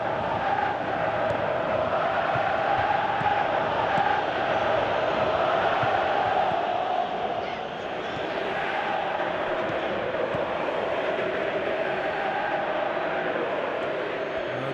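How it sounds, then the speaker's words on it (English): Football stadium crowd at a World Cup quarter-final, a broad, steady roar of many voices filling the whole stretch, dipping slightly partway through and then holding on. "you can feel and hear how the crowd are reacting to all of this"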